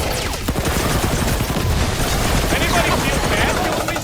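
Bombs exploding and rapid gunfire in the Guardians of the Galaxy video game, a loud, continuous barrage of booms and shots filling the whole stretch, with character voices shouting over the combat.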